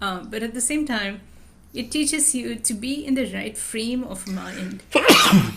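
A single sharp, explosive sneeze bursts out loudly at the very end, right after a stretch of steady speech from someone talking.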